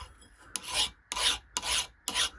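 Four slow, rasping strokes of a file drag across the soft steel tang of a dagger made from an old file, each a harsh, gritty scrape separated by brief pauses, loud and close.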